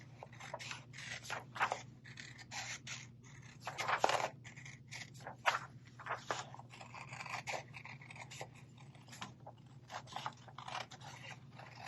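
Scissors snip through paper, cutting out traced foot shapes in a run of close, quiet, irregular cuts and rustles over a low background hum.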